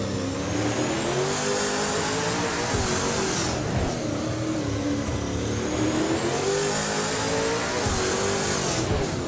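AI-driven race cars in a racing video game, including a 2019 Ford Mustang, roar past with loud sustained engine revving that rises and falls in two sweeping passes, no voices.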